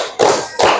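Two sharp, close group hand claps from a classroom of students, evenly spaced in a quick counted pattern with no voices.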